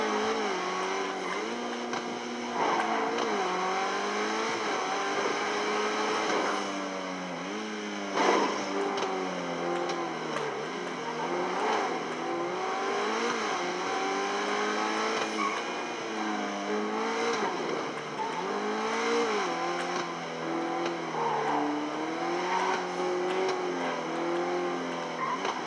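A car in GTA 5 Online drives and revs continuously, engine pitch rising and falling through gear changes with brief tyre squeals, loud and close for the whole stretch.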